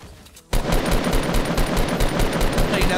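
Dense automatic gunfire in a Fortnite battle royale match at Tilted Towers bursts in after a brief quiet lead-in, loud, close and continuous with rapid repeated shots, a voice faintly in the background.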